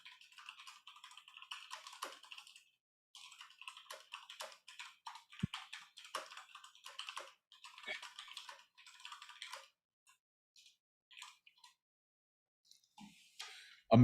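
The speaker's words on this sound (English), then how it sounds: "Oh, she's typing." Rapid keyboard typing in bursts with short pauses, close and clear, no voices.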